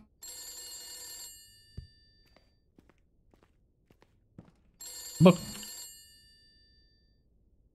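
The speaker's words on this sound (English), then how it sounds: "The phone sounds like it's right there, so it must be on the other side." A telephone bell rings in two loud bursts, each about a second long, inside a horror video game. Footstep thuds fall between the rings, and a voice speaks briefly.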